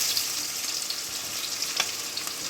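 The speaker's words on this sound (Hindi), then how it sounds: "बड़ा प्याज काट कर इसमें डाल दिया। थोड़ी देर लाल करना है।" Chopped onion frying in a pan with whole cardamom, cloves and cinnamon, a bright, steady hiss of sizzling oil up close with small pops and light stirring, no talk.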